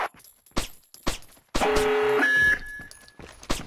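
Alarm in the stealth game Splinter Cell: Pandora Tomorrow, a loud electronic tone that holds for about a second amid sharp bursts of noise, set off as a security stage rises.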